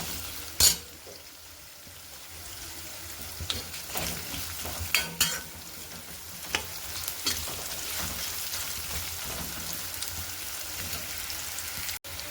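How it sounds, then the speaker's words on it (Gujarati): Curry leaves and onion fry in a pan for sambhar, a steady soft sizzle with a few sharp crackles and spatters early on, fairly faint and without speech. "કળી લીમડો, ડુંગળી નાખી દીધી છે. અને આપણે શેકાવા દઈશું બરાબર."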